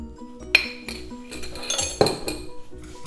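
A spoon scrapes and clinks against a pot while stirring semolina cream cooked in thick milk. There are two sharper metallic knocks amid steady scraping, close and clear, with no voices.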